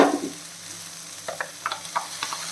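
Tomato paste and onions sautéing in a pan, a steady close sizzle with a few soft stirring scrapes and clicks of a utensil, no voices.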